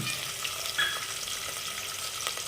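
Ginger garlic paste frying in a pan for vegetable biryani, a soft continuous sizzle close by with faint stirring, no voices.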